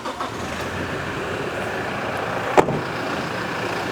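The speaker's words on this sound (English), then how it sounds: "So let's start up the car." A Toyota car engine cranks and catches with a short sharp burst near the middle, then settles into a steady close idle rumble with broadband hiss; no talking.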